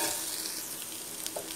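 Potatoes being stirred into frying masala in a pan while preparing peanut sundal, giving a steady close sizzle with scraping stirring sounds and no talk.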